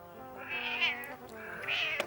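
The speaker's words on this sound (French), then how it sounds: "Un chat qui miaule?" A domestic cat meows twice indoors, two drawn-out rising-and-falling calls close by, alone with no talking over them.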